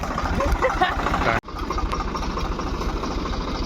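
A tractor engine runs steadily nearby as a dense, continuous mechanical rumble, broken by a single brief dropout before it carries on at the same level.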